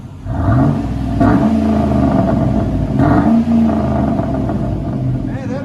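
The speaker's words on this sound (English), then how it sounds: "Rev it higher." Chevy/GMC 5.3L V8 truck with an aftermarket exhaust revving hard, deep rumbling swells rising and falling twice at close range while someone speaks faintly over it.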